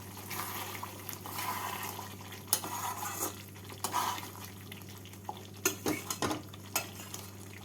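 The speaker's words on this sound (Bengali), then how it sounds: "ধনে পাতা দিয়ে আবারও নাড়াচাড়া করে" Egg masala curry with chopped coriander leaves is stirred in a pan: soft, quiet scrapes and occasional utensil clinks over a faint simmering sizzle, with a low steady hum in the background.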